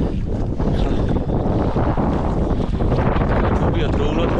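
Wind rising over open water during a duck hunt with decoys, a steady loud rushing roar that buffets the microphone, with voices talking over it.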